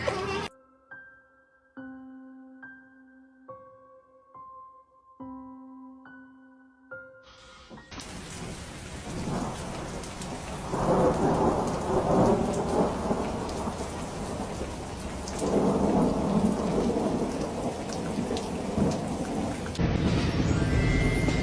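Heavy rain pours down as deep rumbles of thunder roll through. The storm enters loudly after a short run of soft tonal chimes and holds as a steady roar.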